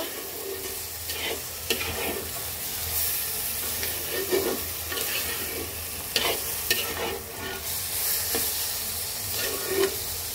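Winter vegetables with a spoonful of tomato sauce being stirred in a hot pan, giving a steady sizzling hiss with intermittent scraping strokes of the spatula throughout, no voices.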